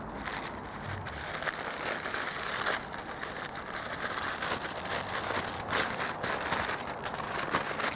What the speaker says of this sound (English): take a sheet of parchment paper, crumple it up